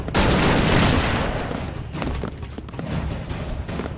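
Gunfire in the retro action game Broforce, starting as a loud rattling burst of shots and explosions, then continuing as scattered, punchy pops and booms.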